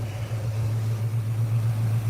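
Maroon metallic car with quad exhaust idling, a steady low engine hum with a constant drone, close and even, with no voices.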